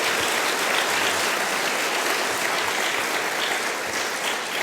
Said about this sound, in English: let's have a big round of applause for our panelists